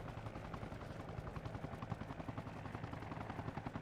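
A helicopter in a military simulation video game flies nearby, producing a loud continuous rotor chop with a steady rhythmic thumping throughout, with no voices.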